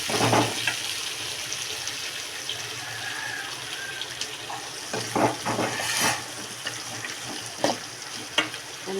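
Water poured into a hot pan of frying broad beans, onion and curry leaves, making a continuous hiss and splashing sizzle with a few sharp clanks of utensils against the pan, close and moderately loud.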